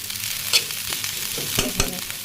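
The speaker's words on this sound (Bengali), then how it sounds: "এখানে আর কি পেঁয়াজ আর আস্ত সব গরম মশলা দিয়ে ভেজে নিচ্ছি" Onions and whole garam masala fry in a pan, giving a steady soft sizzle broken by a few sharp scrapes and clicks of stirring. Close and alone, with no voices.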